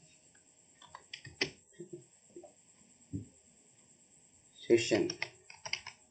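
Someone types on a computer keyboard in short clicking bursts separated by pauses, close to the mic, while a person talks between the keystrokes.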